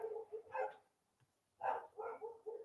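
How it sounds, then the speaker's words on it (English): Several dogs bark in short bursts in the background, moderately close, with a gap of quiet between two clusters of yips and barks. "Sorry about the dogs barking,"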